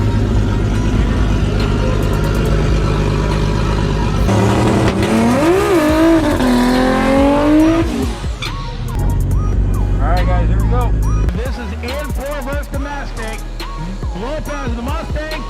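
A Toyota Supra race car with an A340 automatic transmission, engine droning loudly, then revving in rising and falling sweeps, with shifts and a second burst of revving; a voice speaks over part of it.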